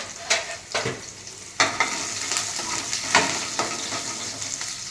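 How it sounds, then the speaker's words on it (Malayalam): Garlic and chopped ginger sizzle in hot oil for a toor dal curry, while a spoon scrapes through the pan in sharp, irregular strokes over a steady frying hiss. "ഇഞ്ചി കൊത്തി അരിഞ്ഞത് അതും കൂടി ഇട്ട് കൊടുക്കുവാണ്. ഒന്ന് നമുക്കൊന്ന് ഇളക്കി കൊടുക്കാം."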